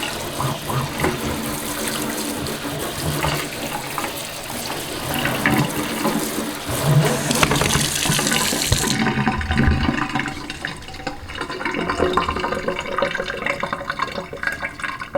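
Running tap water gushes steadily as a houseplant is rinsed under the faucet to clear mealybugs, a loud continuous splash that thins and drops after the midpoint.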